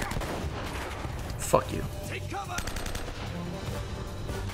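Bursts of automatic gunfire ring out from the video game Uncharted: Drake's Fortune, a rapid crackle of shots in a busy battle mix, with a player cursing briefly over it.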